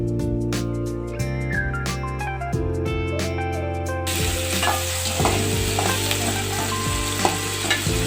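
Chopped tomatoes added to softened onions, frying and being stirred in a pan for a Tamil karunaikilangu masiyal, with steady close sizzling, spoon scrapes, and a brighter hiss as the sizzle intensifies midway, no talking.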